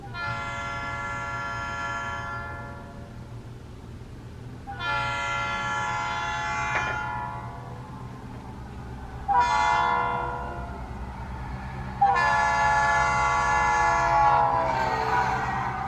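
Four sustained blasts of a model locomotive's Leslie S3L air horn with Doppler effect, sounding a chord, separated by pauses, over a low steady engine rumble; the last blasts are louder.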